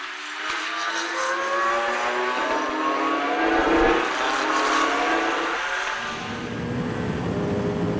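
Porsche and Ferrari race cars battle at Paul Ricard, engines roaring steadily as they pass, with a loud surge near the middle and a continuous wash of track noise throughout.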